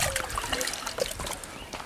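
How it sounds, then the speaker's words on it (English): Running water trickles and splashes steadily at a campsite while dishes are washed, close and continuous for under two seconds with small clinks and no talking. "Now it's time to do some dishes."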